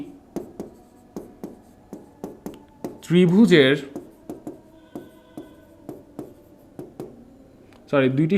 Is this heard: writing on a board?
yes